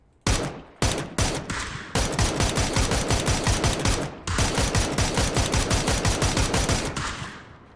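Rapid bursts of automatic gunfire from PUBG, loud and close, with a few separate shots and then long sustained strings of evenly spaced rounds with brief gaps between them.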